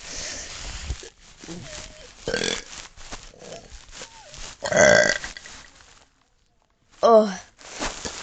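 A person burps repeatedly, producing a series of croaky belches of varying loudness, with a louder one midway and another after a brief silence.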